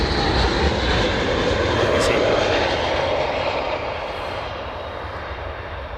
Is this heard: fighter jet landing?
yes